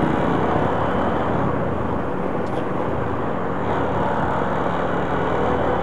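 Road traffic crawls in a jam, with a continuous broad rumble of car and truck engines and a faint whine passing overhead, steady and fairly loud throughout.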